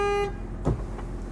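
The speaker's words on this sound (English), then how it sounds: "And then a city horn here." A single short, bright city horn toot from a Renegade Verona 36VSB motorhome sounds close by, followed by a low engine rumble and a soft thump.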